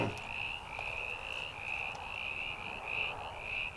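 A steady chorus of frogs croaking outdoors after a storm, with a continuous trilling call overlapping throughout, fairly faint and without talk.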